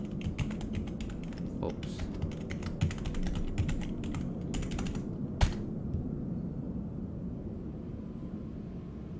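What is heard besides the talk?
typing on a computer keyboard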